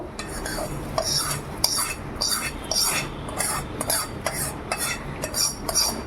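A spoon stirs and scrapes rhythmically against a pot of boiling milk as rice goes in for payesh, with regular metallic clinks about twice a second, close and steady, and no talking.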